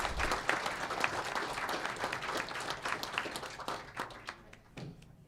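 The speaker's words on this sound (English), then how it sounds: "Such enthusiastic clapping for it being the last one." Audience applause at a pinball seminar, a steady wash of many hands clapping from a seated crowd that holds for a few seconds and then tapers off near the end.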